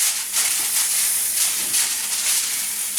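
Sausage sizzles under a loose foil cover in a skillet, a steady, fairly loud hiss with gentle swells and no pause throughout.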